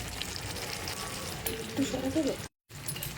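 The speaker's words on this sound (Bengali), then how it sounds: "এই অবস্থাতে আমি যে বেটে রেখেছিলাম যে ধনেপাতাটা, এটা এবার এখানে দিয়ে দিচ্ছি।" Ground coriander-leaf paste goes into hot oil that has already separated from a gravy, giving a steady, moderate sizzle and hiss. A brief murmuring voice sounds over it before a short silent gap.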